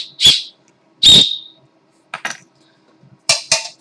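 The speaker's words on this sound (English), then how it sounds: "Whistle." Five sharp, high-pitched whistle blasts in short bursts: two longer ones spaced apart, then quicker pairs, loud and close with silence between.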